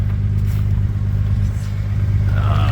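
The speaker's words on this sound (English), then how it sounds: "we're gonna go for a spin in this quite lovely R33 GTR" A Nissan Skyline R33 GTR drives along with a steady low engine drone heard from inside the car, rising slightly toward the end with no talking.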